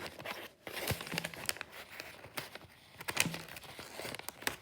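Scissors cutting open a New Year gift box, giving a series of crisp snipping and crinkling cardboard and paper sounds in irregular bursts, close and fairly quiet.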